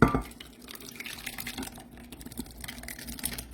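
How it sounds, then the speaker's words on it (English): A thick, soupy corn casserole mixture glugs and splatters into a bowl in a soft, irregular stream, with small wet drips and plops continuing throughout. "And we're just going to pour it. Now remember, it's real soupy."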